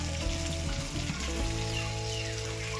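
Continuous sizzling and crackling of potatoes frying in hot oil, close up, with a low steady hum underneath.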